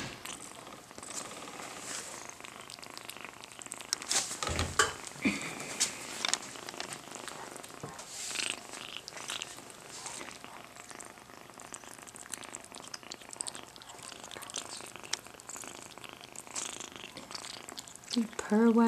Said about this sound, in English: This one continues to purr while she's eating.